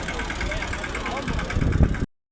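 A tractor engine idles nearby at a temple festival with a steady, throbbing diesel rumble, then cuts off abruptly.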